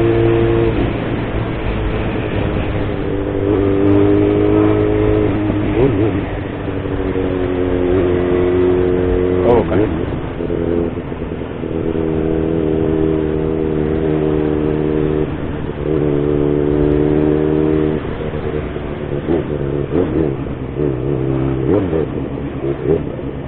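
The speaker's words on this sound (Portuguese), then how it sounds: "como ela está engarrafada, aqui também os carros ficam esperando, né?" Cars in a traffic jam in Aracaju, engines idling and revving in a steady, loud, close drone with repeated accelerations as vehicles creep forward, no voices.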